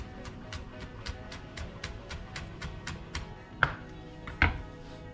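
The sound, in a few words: chopping thyme finely with knife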